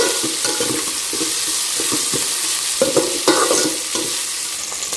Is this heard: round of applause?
no